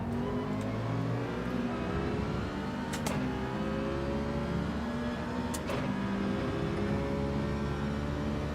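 A race car in Gran Turismo 7 held in third gear while racing online, its engine droning steadily and revving high throughout, loud and continuous with brief faint clicks over the top.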